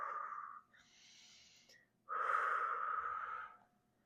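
Forceful breaths pushed out through the mouth during a deep core exercise, two airy bursts with a short pause between, close and fairly quiet, no talking.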